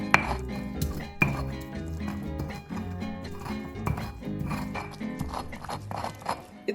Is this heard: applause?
no